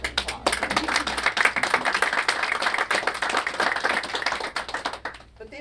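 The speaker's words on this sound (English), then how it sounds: "I think that deserves an applause" Brisk clapping from a modest crowd at a community program launch event, crisp individual hand claps packed into a steady burst that cuts off near the end.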